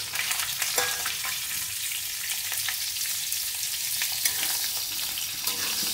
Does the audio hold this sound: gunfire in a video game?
no